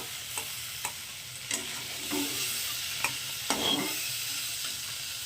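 Prawns sizzling in hot oil with a steady crackle, punctuated by several sharp scrapes and taps of a spatula against the pan.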